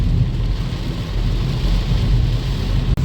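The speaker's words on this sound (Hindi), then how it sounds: "काफ़ी तेज़ बारिश हो रही है।" Heavy rain drums steadily on a car during a night drive on the NH48 highway, a dense, loud and continuous wash with road rumble underneath and no voices.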